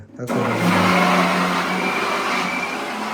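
A mixer grinder starts up abruptly and runs with a loud, steady motor whine that continues throughout.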